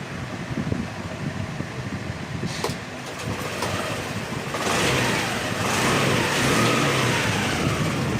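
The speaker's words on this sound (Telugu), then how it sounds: "మనకి బండి అయితే స్టార్ట్ అయిపోయింది" A Honda Dio scooter engine, just restarted after an ECU wiring repair, runs at a steady idle up close, its drone rising slightly in the second half with a faint fan-like whir and no talk.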